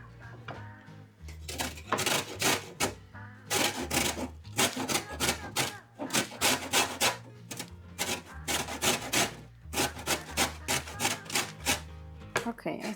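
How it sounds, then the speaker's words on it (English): Lemon zest being grated for lemon curd, two lemons rubbed against a grater in a run of close, rhythmic scraping strokes with brief pauses between bursts, over a low steady hum. "But first I need the lemon zest."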